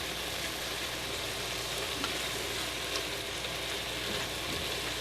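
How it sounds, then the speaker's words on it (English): Ground beef browns in a pot over medium heat, giving a constant, even sizzle that stays at the same level throughout with no voices. "It helps the ground beef is going to brown a little better."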